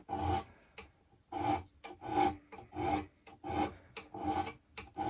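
Rhythmic rasping strokes of sanding on an acoustic guitar fret, about eight back-and-forth passes at a steady pace, close up with no voices.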